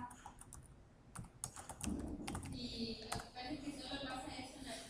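Clattering keystrokes on a computer keyboard, quick irregular bursts of close, faint tapping while a person talks over it.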